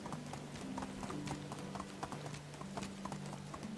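Horse ridden at a steady pace in the Medieval Dynasty video game, its hooves clip-clopping in a quick, regular rhythm, close and moderately loud, alone.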